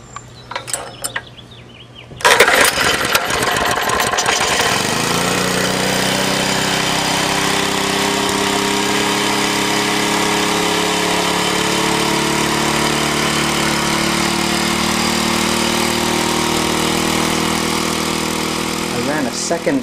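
A gasoline engine fed through a GEET fuel processor cranks, catches after a couple of seconds and then runs loud and steady close by, with a rattling mechanical drone and pitch settling as it keeps going.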